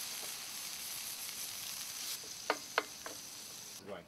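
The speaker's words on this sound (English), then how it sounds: "we will add the tomato. And we're going to fry it just a little bit." Tomato fries in a pan for paella, a faint, steady sizzle and hiss close by, broken by a few sharp scraping knocks of stirring near the end; no one speaks.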